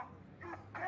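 A dog lying in bed whimpers for a treat, giving a couple of short, faint, high whines close by in a quiet room.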